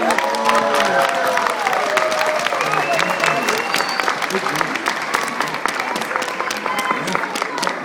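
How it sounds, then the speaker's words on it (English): Audience applause with cheering at a mission gathering, steady dense clapping that holds throughout, loud and close, with scattered shouts and voices mixed in. "Give him a round of applause."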